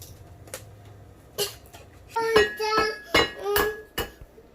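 Eggs cracked against a bowl while making breakfast with a young child, a run of sharp taps and ringing clinks of the bowl and utensils, close and fairly loud, with a few scattered knocks before.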